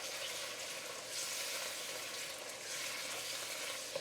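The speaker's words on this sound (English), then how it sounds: "when I'm working with frozen vegetables, I like to let all that excess water evaporate off" Frozen vegetables cooking in a pan as their excess water boils off, a soft, fairly quiet, steady hiss and sizzle that rises and falls gently, with no talking.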